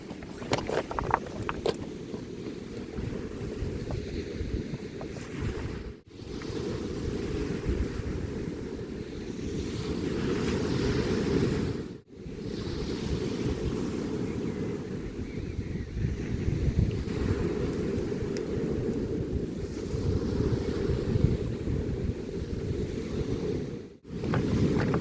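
Waves break and wash steadily onto the shore at Penarth Beach, a continuous loud roar of surf mixed with gusty wind buffeting the microphone, with no voices.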